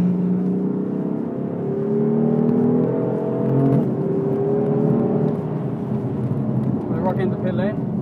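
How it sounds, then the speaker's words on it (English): A BMW driven on the Mondello race track engine revs and climbs toward fourth gear, a steady rising whine held throughout while the driver talks over it. "I am definitely getting faster because I'm like chasing up into fourth here on this straight."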